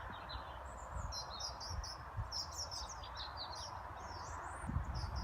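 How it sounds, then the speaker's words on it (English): Small birds chirp and twitter continuously at a distance over a sunny early-autumn allotment, their light calls steady above a low background hum. "but the birds are singing."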